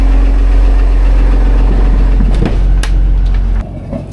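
Diesel engine of a 36-foot trawler idling, a loud steady low rumble with a constant hum for a few seconds, dropping slightly near the end with a few brief knocks.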